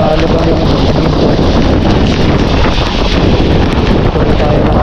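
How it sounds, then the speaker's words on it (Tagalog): Strong, steady wind buffets the microphone across the whole stretch, a loud continuous roar with gusty flutter and no pauses, out in cold rainy-season weather. "Lakas ang hangin."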